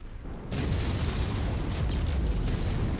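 A transport facility blows up in the video game MechWarrior 5: a sudden heavy boom half a second in, swelling into a loud, sustained rumbling roar that fills the rest of the moment.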